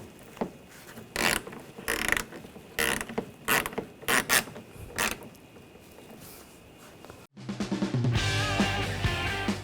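A ratchet tightens bolts on the front grille of a 2007-2013 BMW X5 in several short bursts of rapid clicking, close, with pauses between, followed by music.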